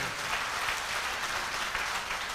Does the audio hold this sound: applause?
yes